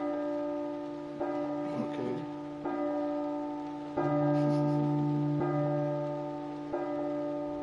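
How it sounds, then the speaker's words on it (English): Church bell in a video game tolling in slow, evenly spaced strokes about every one and a half seconds, each ring sustaining with a long, bright, humming decay, clear and prominent with no talking. "Do I move while the bell rings?"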